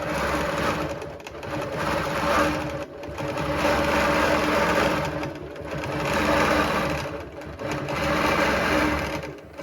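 A quilting machine stitches a border pattern along the side borders of a quilt, a steady close mechanical whirr of rapid needle strokes that pauses briefly between runs.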